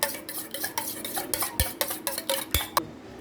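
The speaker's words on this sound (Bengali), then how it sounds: "আগে হাত দিয়ে ভালো করে ফাটিয়ে নিতে হবে" Egg whites whisked by hand in a bowl, a fast run of close scraping, clinking strokes against the sides in steady rhythm, with a few sharper knocks, no voices.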